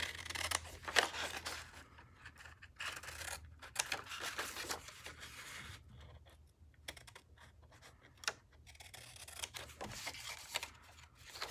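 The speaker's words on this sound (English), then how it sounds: "I've just traced the coffin and I'm just going to cut" Scissors snip around a traced paper coffin outline for a Stampin' Up! craft, giving a run of quiet, irregular close-up cuts and rustles with short pauses between them and no talking.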